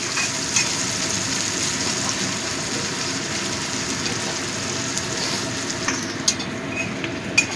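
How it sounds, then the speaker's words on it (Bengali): Onions frying in a pan for a red country-chicken curry give a steady, close sizzle and crackle that runs throughout, with a few sharper pops near the end and no talking. "পেঁয়াজটাকে একটু লাল করে ভেজে নেব।"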